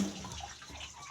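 Strong running water pours from a tap, a brief, steady, splashing gush heard up close.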